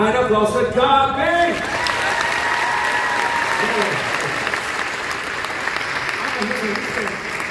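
A brief voice at the start, then the audience at a Flic Flac circus show in Nuremberg breaks into steady, loud clapping that continues evenly to the end.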